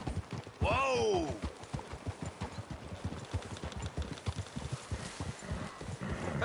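In Red Dead Redemption 2, a horse gives a loud, sharp whinny near the start, then hooves clop in a steady rhythm as several horses walk close by, with soft snorts along the way.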